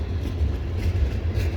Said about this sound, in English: First engine going by